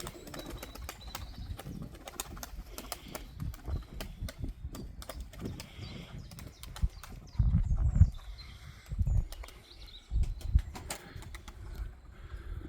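Pigeons coo close by in several low, throaty bursts, mixed with soft tapping and shuffling, and no one speaks.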